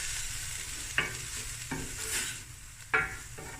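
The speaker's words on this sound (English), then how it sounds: "Make that garlic cook through." Garlic and spices frying in a pan with lemon added over higher heat, a low steady sizzle punctuated by a few sharp utensil clinks and scraping stirs.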